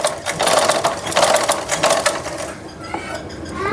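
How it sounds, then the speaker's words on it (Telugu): A sewing machine stitches thread piping onto a blouse in boutique style, giving a close, steady rhythmic whirr for a few seconds before settling into a quieter hum. "కుట్ట అయితే వేసుకుందాం."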